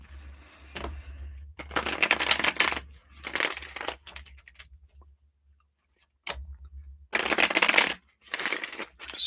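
Tarot cards are shuffled in several bursts of crisp riffling and flicking, with pauses in between and a low hum underneath.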